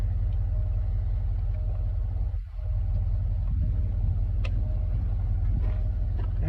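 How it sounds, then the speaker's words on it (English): A car engine idles steadily up close, a constant low rumble that holds through the whole stretch with only a brief dip partway, with no one talking over it. "I'm just going to go and turn the engine on the car"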